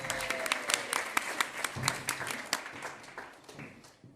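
An audience applauds a contestant at a local singing competition, with dense, steady clapping that holds for a few seconds and then fades slightly toward the end.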